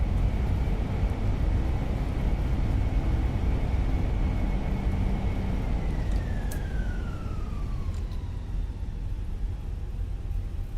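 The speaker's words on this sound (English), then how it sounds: "that nose lifted when those reversers kicked on" Fenix A320 airliner in a flight simulator with its thrust reversers engaged after landing, a loud sustained engine roar with a high whine that slides downward in pitch as the thrust spools down, no voices over it.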